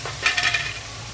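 Rui fish frying in a pan with onion and green chilli, a steady sizzle under scraping stirs that swell for a moment, then settle back to a quieter hiss.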